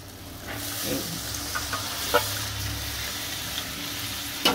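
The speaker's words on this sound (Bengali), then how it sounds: "এবার আমি পনিরটা যে জলে ভিজিয়ে রেখেছিলাম সেটা আমি ঢেলে দেব" Paneer soaking water poured into a hot frying pan of fried potatoes and spices for paneer butter masala, giving a loud, steady hiss and sizzle with liquid splashing, close up and with no talk.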